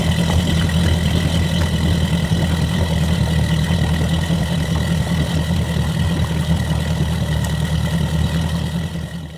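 A Mercury Racing 450R outboard engine runs steadily during a one-mile boat test run, a loud, continuous droning roar with no talk, easing slightly at the very end.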